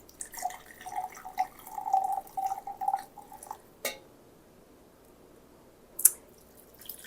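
Beef broth, three-quarters of a cup, poured into a dish for a beef casserole, heard as a soft trickling and dripping stream for about three seconds, then a quiet pause broken by a couple of light clinks.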